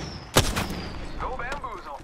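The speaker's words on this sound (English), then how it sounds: "They spotted me. I'm taking shots." One loud, sharp gunshot cracks early in an Apex Legends firefight, followed by a lingering tail and a brief voice.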